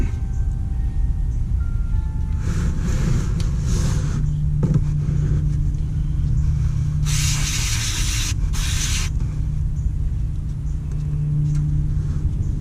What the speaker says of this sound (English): See if we can kind of clean this connector off a little bit.